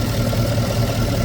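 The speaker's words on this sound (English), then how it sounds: "The fan for the car just turned on at 176." The engine cooling fan of a 2018 Chevrolet Camaro SS runs hot, making a loud, steady broadband whoosh close by, blended with a low idling engine rumble and no pauses.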